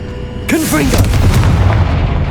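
Casting the Confringo explosive spell in Hogwarts Legacy unleashes a sharp, loud blast with a shouted voice at its onset, followed by a rumbling, crackling tail that stays close and heavy.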